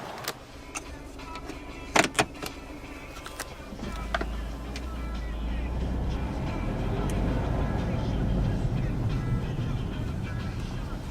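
A 2009 Smart Fortwo Passion Coupe pulls away and drives, its small engine note rising steadily and quietly in the cabin after a few sharp clicks and knocks at the start.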